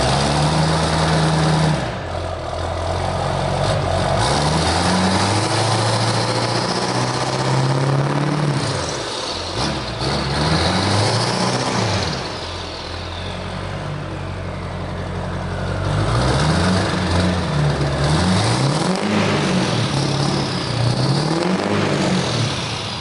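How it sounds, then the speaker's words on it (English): A 650 hp Duramax LML diesel pickup truck with a fixed-vane turbo sound idles with a deep rumble and revs repeatedly in swelling bursts, heard close and alone. "this truck sounds absolutely amazing"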